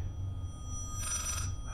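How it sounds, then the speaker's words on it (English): A phone in the horror video game Layers of Fear rings once in a short, faint electronic trill over a low ambient hum, with no voices. "It's your phone."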